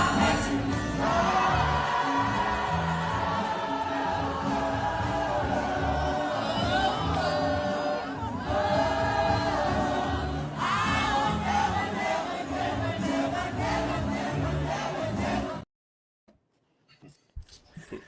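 A large outdoor crowd at a Juneteenth celebration in Harlem roars, whoops and chatters loudly and continuously, with voices overlapping, before the sound cuts out abruptly near the end.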